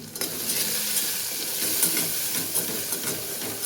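Steady sizzle of a mixture frying in a pan while making kondule, a Marathi home-style dish, with stirring scrapes throughout; continuous, close and moderately loud, no talking.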